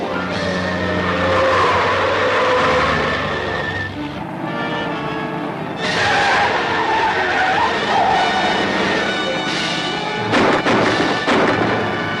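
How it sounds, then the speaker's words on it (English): A car skids loudly during a chase in a 1945 Roy Rogers western, with tires screeching in long, continuous bursts over engine roar and rumbling, harsh and close throughout. "There's a car behind us."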